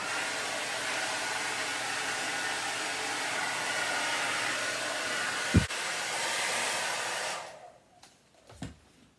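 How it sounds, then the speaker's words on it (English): A blow dryer drying paint on furniture during silver leaf gilding roars as a loud, steady whir for several seconds, then cuts off, followed by a couple of light knocks. "Sorry for all the blow drying."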